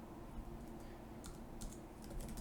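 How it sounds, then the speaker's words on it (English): Quiet typing on the small keyboard of a Lenovo Chromebook Duet, several soft key clicks in short irregular bursts over low room noise. "Let's test the keyboard."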